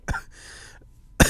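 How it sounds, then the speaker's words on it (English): A person coughs sharply, a rasping throat-clearing breath follows, and then a second loud cough comes, all close to the microphone with no talk. "Sorry for the coughing."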